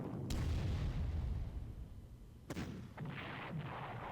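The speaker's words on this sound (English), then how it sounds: "Suppressing the defending artillery" Artillery fire in the strategy game Panzer Corps during a battle at Kursk, a heavy low rumble followed by sharp cannon blasts at about 0.3 and 2.5 seconds, then lighter crackling shots.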